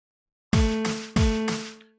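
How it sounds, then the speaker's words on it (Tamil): Two FL Studio drum-machine hits about half a second apart with a deep booming decay, each followed by a short clap sample, dry and electronic, no voices. "ஸோ அடுத்தது கிளாப் சவுண்ட்."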